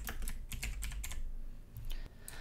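Quick, uneven clicks of fingers typing on a computer keyboard, close and steady for a couple of seconds, with no voices.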